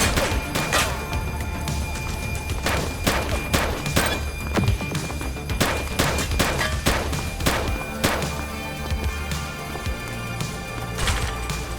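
Gunfire erupts in The Precinct, a police action game: repeated sharp shots and bursts crack at irregular intervals over a busy backdrop of street noise, with loud, close impacts throughout.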